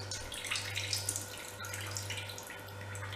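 Warm water runs from a tap into a cup while making up liquid for currant tea cakes, a steady soft splashing stream, fairly quiet and close, with no talking.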